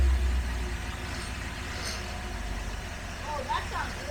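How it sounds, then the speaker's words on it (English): A Dodge 318 V8 idles on an engine test stand, a low steady rumble running beneath people talking nearby throughout. "It's fun to watch an engine run without being in the car?"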